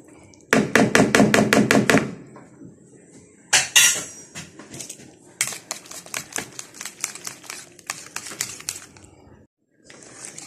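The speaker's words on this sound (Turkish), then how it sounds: "Çırpma teli kullanmam lazım." Flour being whisked into a bulgur köfte mixture in a bowl, heard as rapid bursts of sharp metallic clicks as the whisk beats against the bowl, loud and close, in several fast runs separated by short pauses, with no talking.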